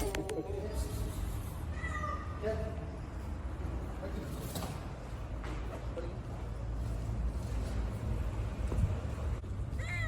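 A mother cat that gave birth under the sermon pulpit of a mosque meows several times, short plaintive cries rising over a low steady hum, with people talking faintly in the background.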